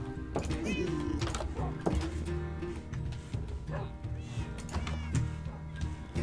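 A cat meows a few times in a Minecraft survival world, short mewing calls rising over a busy, steady background of game sounds and music.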